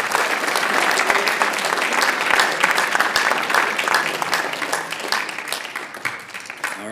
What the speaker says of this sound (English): Another quick round of applause for Katie.